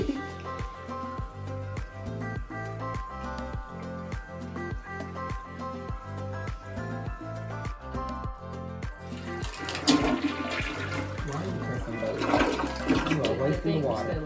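Pro-Flush black dual flush toilet flushing, a rushing swirl of water that builds and surges in the later seconds beneath a steady rhythmic pulsing background, with people talking faintly.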